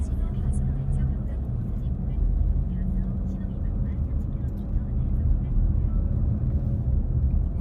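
A car drives along the Ganam-ro bypass road near Gajwa-dong, Seo-gu, Incheon, giving a steady low road and engine rumble throughout, with a person talking over it.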